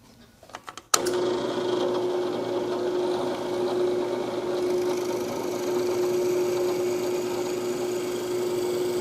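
Steady drilling through wood with a 1/4 inch brad point bit, a sustained whining drill tone that starts abruptly after a few brief bumps and runs loud and even to the end, with no talking.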